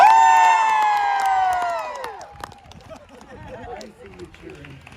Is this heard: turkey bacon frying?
no